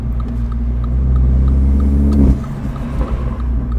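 Mini JCW engine and exhaust echoing off a nearby wall, a loud, steady low rumble with a brief surge and swell as the car passes close by.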